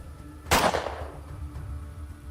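A single sharp gunshot from a gun in the video game ATOM RPG cracks loud and close, then rings out in a short fading tail over quiet background hum.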